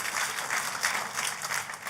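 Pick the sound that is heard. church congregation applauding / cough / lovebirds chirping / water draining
church congregation applauding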